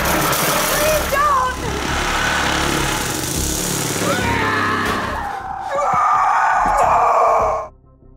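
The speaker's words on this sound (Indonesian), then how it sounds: "Kendall kemudian mengambil gergaji mesin dan mencoba menghancurkan pintunya." A chainsaw tears into a door during a zombie film scene, its loud engine droning steadily for several seconds amid screams and voices, then cutting off abruptly near the end.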